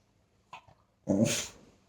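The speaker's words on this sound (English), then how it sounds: "I have a dog now." A pet dog gives a short soft yip and then one louder, close bark that trails off, with quiet in between.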